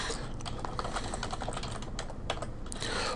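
Computer keyboard typing, rapid quiet key clicks in an uneven stream with a short pause, close and faint over low room noise.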